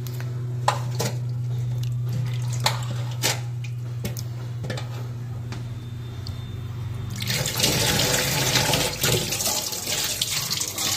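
Bombay duck and bata fish being washed under a running kitchen tap, with water splashing into a sink, scattered clinks of handling, and a louder gush of flow in the last few seconds.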